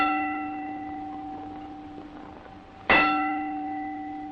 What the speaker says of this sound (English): a hand ringing a bell.